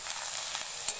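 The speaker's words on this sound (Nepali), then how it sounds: "हामी यसलाई एकपटक चलाइदिन्छौँ" Brinjal frying in a pan for pickle, stirred once, giving a continuous close sizzle with a few soft scraping taps of the spoon.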